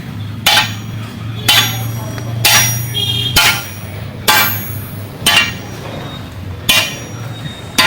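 A hammer strikes a leaf-spring clamp on a Bolero pickup, with about seven loud metallic blows spaced roughly a second apart, close by, over a low steady hum.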